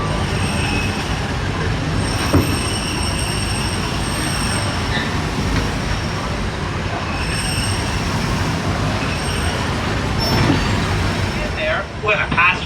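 The Disneyland Railroad train running at night, a steady loud rumble of wheels on track throughout, with faint metallic squeals and clanks near the middle and end. No one speaks over the constant rolling noise.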